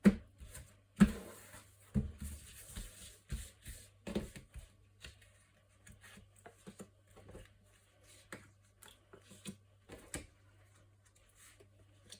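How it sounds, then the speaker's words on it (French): Tarot cards being shuffled and laid out for a nine-card spread, heard as a quiet series of soft card flicks, slaps and taps in an irregular rhythm, close and faint. "Nous allons faire un tirage en 9 cartes."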